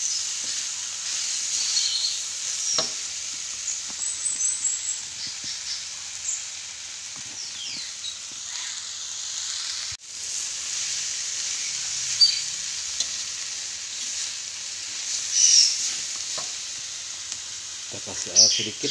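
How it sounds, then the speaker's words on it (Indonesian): Cassava leaves mixed with papaya leaves sizzling and frying in a pan as they are stirred, a steady hiss punctuated by scraping stirs and occasional birdsong nearby. "Kita masukkan daun singkongnya yang dicampur daun paya. Oke, kita aduk-aduk lagi."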